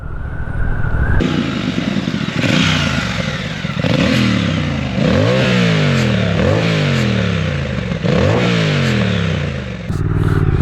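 A Triumph Speed Twin 1200 motorcycle engine while riding on a dual carriageway, loud and close. Its revs climb and drop repeatedly through a series of gear changes over steady wind and road roar, with no talking.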